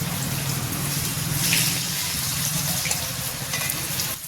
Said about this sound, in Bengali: চিকেনের জন্য আলুটা ভালো করে ভেজে নিচ্ছি